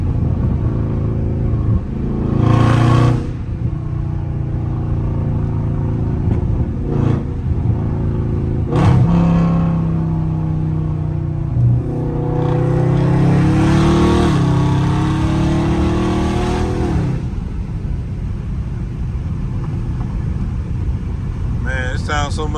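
A catless Dodge Scat Pack roars past in several loud fly-bys, each a rising and falling engine blast, separated by quieter idling moments and background noise.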